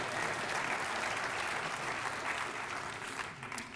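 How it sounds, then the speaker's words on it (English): An audience at a keynote talk claps steadily in a dense, even round of applause from a full room, continuing for a few seconds without speech. "Let's have a round of applause for the pig."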